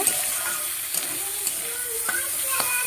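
Chicken pieces frying in a pan for a chicken Maggi dish, a steady close hiss of sizzling oil with a few light stirring scrapes scattered throughout.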